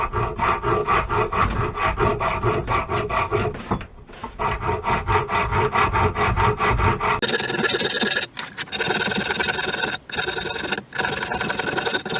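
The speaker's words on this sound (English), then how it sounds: "So for shaping, just using the rasp, it's in the vise." A hand rasp shaping a piece of oak clamped in a loose vise, loud continuous rhythmic rasping strokes with brief pauses, growing harsher and brighter in the later strokes, close up.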